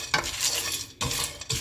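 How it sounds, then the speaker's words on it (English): Black gram (urad dal) laddu ingredients with cardamom are roasted together in a pan, with a spoon scraping and stirring in short rhythmic strokes and a light sizzle, close and fairly loud, no talk. "I'm roasting it all together."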